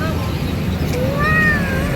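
A child makes a cat's meow with the voice, a short rising and falling mew imitation. It comes at close range over a busy background of household noise, with talk around it.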